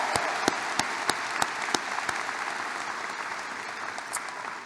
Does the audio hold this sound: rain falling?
no